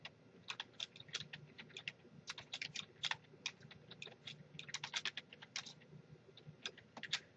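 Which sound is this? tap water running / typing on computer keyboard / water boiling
typing on computer keyboard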